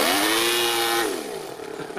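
A Toyan FS-L200 engine in an RC Ford F450 truck runs, a buzzy high-pitched whine that holds steady then drops in pitch as it revs down, fairly close, with no voices.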